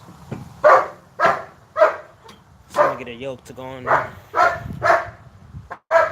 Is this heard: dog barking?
yes